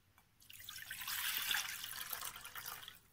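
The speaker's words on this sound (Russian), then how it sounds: "ополосну проточной холодной водой" Cold tap water runs steadily over wild mushrooms being rinsed, a hissing, splashing stream that starts abruptly and continues alone.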